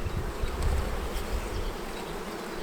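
Honeybees swarm and buzz in a dense, steady drone during a beehive colony inspection before the last honey extraction, close and loud throughout with no talking.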